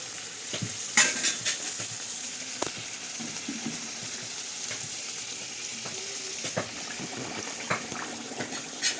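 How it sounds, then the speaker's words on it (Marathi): Puris deep-frying in plenty of hot oil make a steady close sizzle and bubbling, broken by sharp crackles and the occasional clink of a utensil in the pan. "जास्त तेल असल्यामुळं 2 पुऱ्या टाकल्या आणि दुसरी ही पुरी पहा ती अशी टम्म फुगणार आहे."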